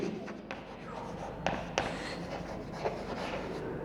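A pen writes on paper while accounting entries are set down: a soft, steady scratching with several light taps and strokes standing out, close up and quiet, with no talking over it.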